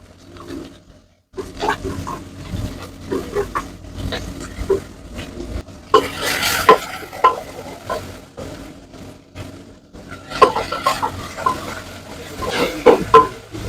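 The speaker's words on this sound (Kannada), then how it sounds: "ಈರುಳ್ಳಿ ಮತ್ತೆ ಸೊಪ್ಪು ಎರಡನ್ನೂ ಒಟ್ಟಿಗೆ ಬಾಡಿಸ್ಕೊಳ್ಳೋದು." Radish greens and onion stirring and frying in a pan, with scraping stirs and a low sizzle running throughout, bursts of louder clatter around the middle and end, no talking.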